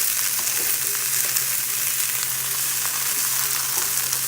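Garlic and vegetables sizzling in a hot pan for a stir fry, a steady, close, dense hiss of frying oil that holds evenly throughout with no talking.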